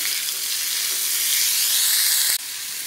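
Potatoes with tomato and rock salt for a Navratri fasting snack, stirred in a hot pan under a loud, continuous close sizzle, with a slight drop in level near the end.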